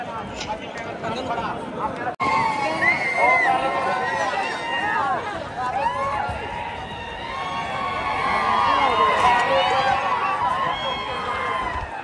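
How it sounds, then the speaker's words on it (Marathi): A large crowd at a bullock cart race fills the air with a dense, continuous roar of voices, shouts and cheering, loud and close and swelling toward the end, with people talking nearby throughout. "पॉवरफुल गर्दी"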